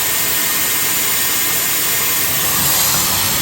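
A Dyson Airwrap hair styler on its cool shot setting blows a loud, steady rush of air, continuous and close for the whole stretch.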